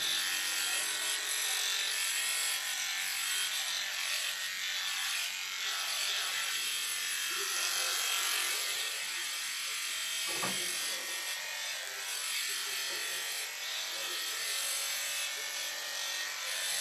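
Electric clippers run steadily while trimming a lamb's wool down to a half-inch length, a continuous buzzing hum held at close range without pause.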